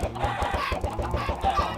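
Minecraft chickens cluck in quick, repeated bursts close by, short clucks following one another at an irregular pace with no talk.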